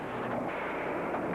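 Toy trains on a model railway are blown up, a dense roaring explosion blast that fills the whole moment, sustained and loud with no voices.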